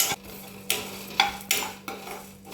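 Coriander, cumin, cloves and pepper are dry-roasted in a pan without oil, stirred in a series of close, rhythmic scraping bursts, each lasting a fraction of a second.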